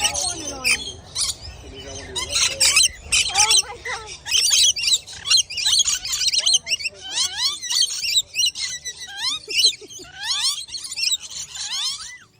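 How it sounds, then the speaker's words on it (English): Parrots at Brevard Zoo squawk and chatter in rapid, overlapping bursts of shrill calls and whistles, loud and near, with people's voices mixed in underneath. "I'm going to throw in a video of them playing with the parrots at the zoo, Brevard Zoo"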